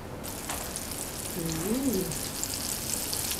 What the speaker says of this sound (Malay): Masak sotong goreng tepung ni, ya, kena sabar.